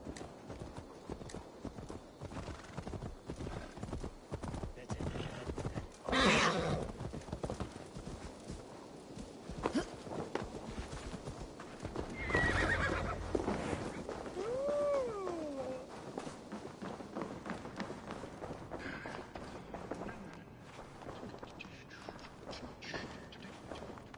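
Hooves clop steadily on a hard surface while a horse in Assassin's Creed Valhalla gives a short whinny partway through, over a low background hum.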